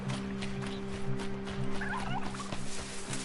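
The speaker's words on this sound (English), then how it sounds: "Oh, turkeys!" Turkeys gobbling in the video game Horizon Zero Dawn, faint warbling calls over a steady game ambience hum, no talk.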